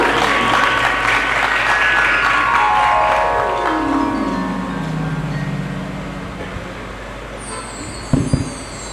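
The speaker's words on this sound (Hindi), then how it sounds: "एक बार जोरदार तालियां मनु शास्त्री जी के लिए।" Audience applause at a religious discourse during a Shrimad Bhagwat Katha at an ashram in Mumbai, a steady broadband wash of many hands clapping that fades gradually, with a low drifting tone beneath and a brief thump near the end.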